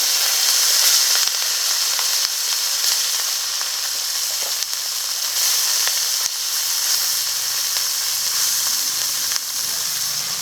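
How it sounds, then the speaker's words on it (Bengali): Fish sizzles in hot mustard oil in a kadai wok, a loud, continuous frying hiss with small crackles that runs unbroken throughout, with no talking. "মাছ ভাজার জন্য কড়াইতে সরিষার তেল দিয়ে দিচ্ছি"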